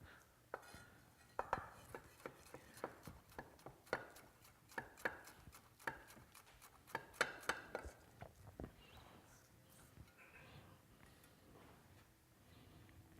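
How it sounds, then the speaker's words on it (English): A knife mincing onion strips on a cutting board, sharp irregular chops and taps repeating in quick bursts, close and fairly quiet, with no talk over them. "if you want to mince, we take a few pieces of the strips. We can go from strips to mince"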